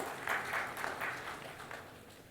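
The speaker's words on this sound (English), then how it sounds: "we can definitely give them a round of applause" Audience applause at an explosives safety conference, a brief and fairly quiet patter of clapping that swells and fades in loose waves, heard from a distance in a hall.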